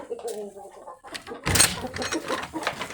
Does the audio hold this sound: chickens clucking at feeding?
yes